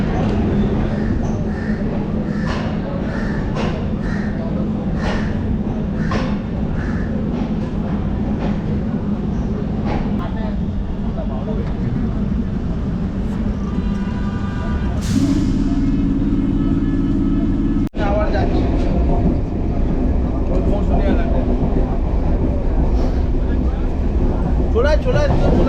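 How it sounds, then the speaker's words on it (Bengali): A passenger train pulling into a station on the way to Kakdwip, with steady loud rolling rumble and rail noise throughout and a brief screech partway through; a voice talks over it. "আমাদের ট্রেন ঢুকছে এখন।"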